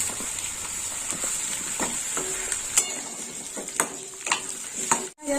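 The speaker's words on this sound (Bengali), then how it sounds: "এবার পটলটা দিয়ে দেবো এই তেলের মধ্যে পটলটাও এর সাথে ভাজা হয়ে যাবে" Pointed gourd frying in hot oil with onions, giving a steady crackling sizzle close by, broken by a few sharp scrapes and taps of a spoon stirring the pan.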